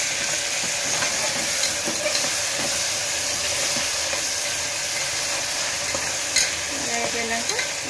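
Mint and coriander sizzle steadily in a hot pan, a continuous loud frying hiss with soft scrapes of stirring throughout and a few light clinks.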